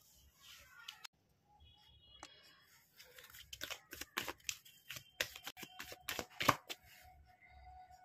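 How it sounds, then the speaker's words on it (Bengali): Tarot cards are shuffled and drawn from a deck in a string of quiet, close riffles, flicks and slides, with scattered short bursts and pauses. "চলুন এই ডেক থেকে আরও কিছু কার্ড বের করে নিই।"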